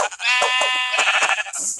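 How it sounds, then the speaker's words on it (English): Sheep bleat in a Minecraft-style survival building game, a long wavering bleat followed by shorter ones, loud and close with no talk over them. "Oh, extra sheep."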